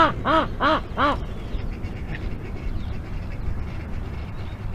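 A goose honks three times in quick, loud, nearby succession, then fades into a steady low outdoor background rumble.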